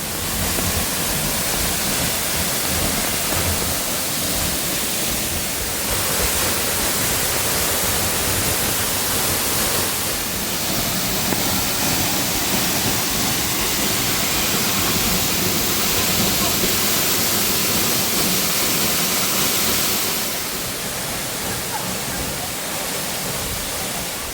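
A constant, full rushing roar comes from Daehye waterfall at Geumosan, running high with water on a rainy day, dipping slightly in loudness near the end.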